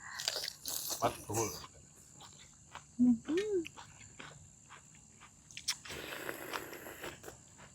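Crunchy bites and chewing while eating giant blood cockles with a spicy chili seafood dipping sauce, short close crunches scattered among people talking.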